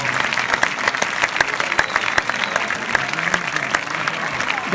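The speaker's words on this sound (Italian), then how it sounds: "Applauso per questi ragazzi straordinari." A theatre audience at the Teatro Greco in Taormina applauds a young plectrum orchestra, with steady, full clapping from a large crowd throughout and a few scattered voices mixed in.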